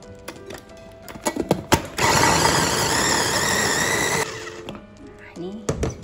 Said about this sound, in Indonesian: Kita chopper semua bumbu.